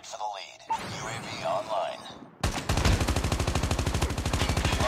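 Gunfire in a Call of Duty match, starting with scattered shots and game effects, then a loud, rapid automatic burst of evenly spaced rounds filling the last half.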